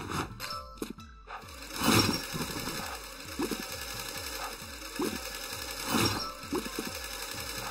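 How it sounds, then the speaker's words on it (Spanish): A sewing machine in a fashion video game stitches in rapid, regular mechanical pulses with a steady rhythmic chatter, loud and close, in short bursts separated by brief pauses and small clicks. "Hay que coser, coser, coser."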